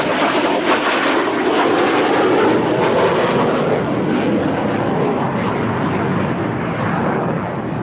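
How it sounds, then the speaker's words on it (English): F-22 Raptor jet engines roaring at an airshow in Atlantic City, a loud, continuous broadband rush that holds steady for several seconds without pause. "They can actually take the nozzles on the jet engine of that aircraft and turn the nozzles up and down."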